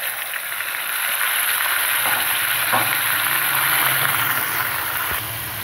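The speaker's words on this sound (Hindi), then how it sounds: "ये अदरक लहसुन का पेस्ट डाल रही हूँ। और जो हमने चिकन जो रखा था तमाम सारे लगा कर वो भी ऐड कर रही हूँ।" Chicken frying in a pan with ginger garlic paste for a chicken karahi, a steady loud sizzle and hiss throughout with a few faint stirring knocks, close up.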